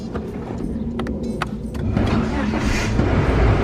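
A Honda EK car starts on a homemade push-to-start system. Sharp clicks and short starter bursts come first, then the engine catches and settles into a louder, steady run nearby.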